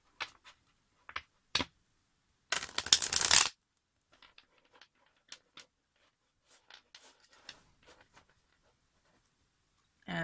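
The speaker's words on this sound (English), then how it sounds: "Let's give this baby a bit more of a shuffle." A deck of tarot cards is shuffled by hand, with a few soft scattered card slaps and flicks, one longer riffle-like burst, then quieter intermittent taps in a near-silent room.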